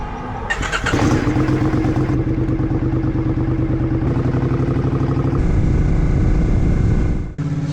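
A motorcycle engine revs up and holds a loud, steady drone while riding into Toronto, close to the microphone, with rumbling shifts in tone and a brief dip near the end.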